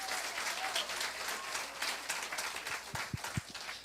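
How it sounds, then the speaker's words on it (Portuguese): A church congregation applauds in steady, fairly faint clapping that fills the room, with a few sharper, closer claps near the end. "Aplauda Jesus, meu irmão."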